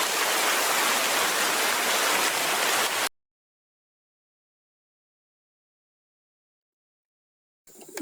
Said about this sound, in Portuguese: começou uma chuva muito forte aqui, eu tive que parar